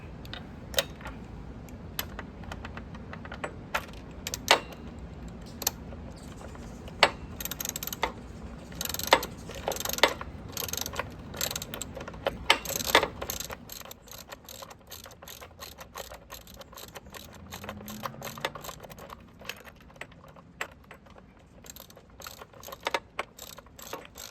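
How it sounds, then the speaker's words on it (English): Socket wrench and 10mm wrench ratcheting to tighten a bolt while installing a bicycle battery lock kit, a run of quick mechanical clicks and taps, busier in the first half and sparser later, close by with no talk. "now we're gonna tighten it up using the 10mm wrench and the socket wrench"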